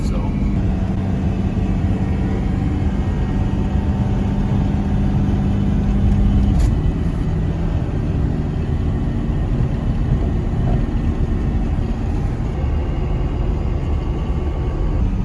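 Cummins diesel swapped into a truck, towing on country roads, a steady low engine rumble from inside the cab that runs continuously, with someone talking over it.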